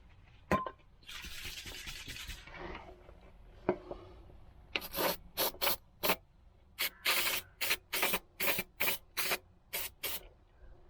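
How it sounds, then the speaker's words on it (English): An aerosol can sprays rust protection product into a hole in a Volvo 240 body, first a longer hiss, then a steady run of short, sharp bursts, close and loud with no talk. "Spraying loads, so hopefully it goes inside that hole."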